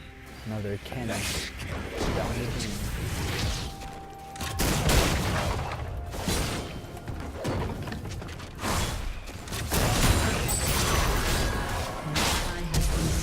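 Cannon fire and mechanical clanks in a fast-paced online battle game, repeated loud bursts over continuous game music and effects, with a player talking throughout.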